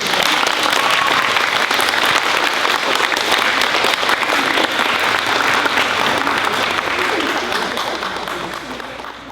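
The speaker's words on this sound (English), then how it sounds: "A round of applause for their" Sustained applause from an audience at a fifth-grade school recognition day, a dense, steady wash of clapping that holds loud for most of the stretch before thinning slightly at the end.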